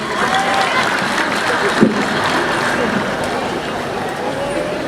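A large seated crowd at a Kenyan government launch event claps steadily and loudly throughout, a dense continuous wash of applause with a brief louder burst partway through.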